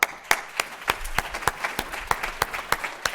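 A small conference audience claps in a sparse, steady round of applause, with individual claps distinct and rhythmic, fairly quiet and without voices over it.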